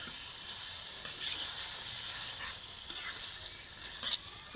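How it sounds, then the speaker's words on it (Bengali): Pork pieces dropped into fried spiced masala in a pan for a village-style curry, giving a steady close sizzle with faint stirring scrapes and occasional louder crackling bursts, no talk. "এটা হচ্ছে শুকরের মাংস, দিয়ে দিলাম।"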